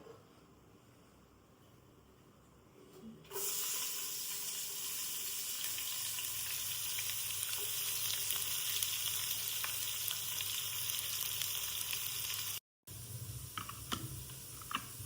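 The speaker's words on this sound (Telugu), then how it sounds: "ఇప్పుడు కొంచెం బ్రౌనిష్ అయ్యాక ఆనియన్స్ వేసుకోవాలి" Onions hit hot oil already seasoned with bay leaf, cinnamon, cloves and cardamom, bursting into a loud, sustained sizzle after a few quiet seconds and hissing steadily on, with a brief dropout near the end.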